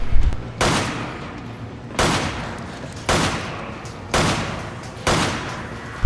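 Gunfire in Resident Evil 5 cracks out in five loud, evenly spaced shots roughly a second and a half apart, each with a short decaying tail, near and dominant.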